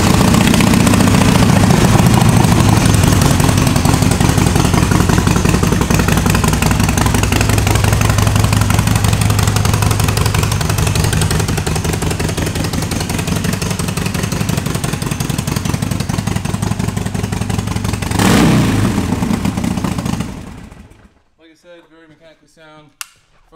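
A 2008 Harley-Davidson Sportster 1200 Nightster engine runs loud and close with a thick, steady rumble for about twenty seconds, then cuts off abruptly into near silence.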